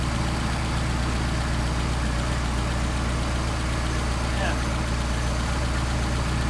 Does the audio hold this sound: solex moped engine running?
yes